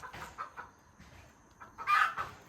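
A handsome rooster with a bright red comb clucks close by in short separate bursts, the last one louder and more drawn out.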